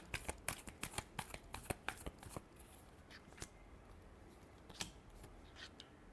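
Tarot cards being shuffled, a quiet, close run of crisp flicking riffles in quick bursts, thinning into sparse soft snaps over a faint background.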